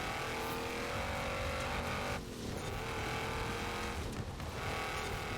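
A car engine roars continuously in Forza Horizon 4, a hot hatch or AWD racer driven hard with a loud sustained drone and brief dips, close and dominant throughout.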